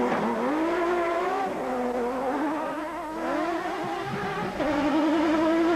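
Off-road race trucks, including a 3.5-litre V6-powered Nissan hardbody, race past with loud, continuous engine drones whose pitch rises and falls in sweeping waves as they accelerate and shift, without any talk.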